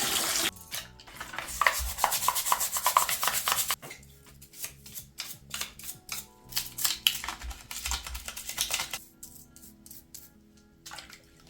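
Grimy parts of a PS One controller being scrubbed clean, a steady rough rubbing and brushing with short pauses, close and fairly loud, with no talking.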